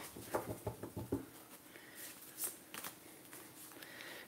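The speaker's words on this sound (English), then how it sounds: "This is probably not the optimal shuffle method." Tarot cards being shuffled by hand, a quick flurry of soft riffling and patting taps followed by scattered lighter card slides, close and fairly quiet.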